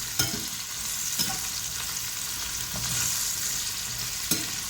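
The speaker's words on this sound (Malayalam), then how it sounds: "നമ്മുടെ ആ വെളുത്തുള്ളി, ചുവന്നുള്ളി, ഇഞ്ചിയെല്ലാം നന്നായിട്ടൊന്ന് വഴന്നു വരണം" Garlic, shallots and ginger sauté in a hot pan, giving a steady close sizzle with a few sharp scraping stir strokes spaced through it.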